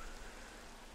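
Steady rain falling in a Minecraft grass biome, a dense even hiss with no distinct drops, continuous and fairly soft, no voices.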